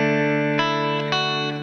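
Guitar strumming a chord melody phrase, sustained ringing chords with a few fresh strums struck roughly every half second, close and clear, with no voice.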